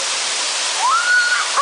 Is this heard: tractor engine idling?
no